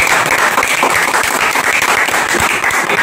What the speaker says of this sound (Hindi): इनके लिए फिर से एक ताली हो जाए